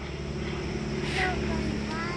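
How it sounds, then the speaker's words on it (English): An airplane flying high overhead, a continuous distant drone with a steady low hum that swells slightly midway, heard outdoors. "I see the airplane up in the sky."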